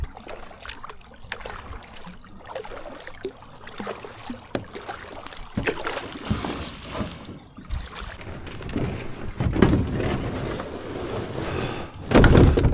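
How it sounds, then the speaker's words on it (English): Kayak paddling on a newly filled pond, with soft water splashes and dips under light wind noise on the microphone, growing louder toward the end. "First time kayaking in the new pond."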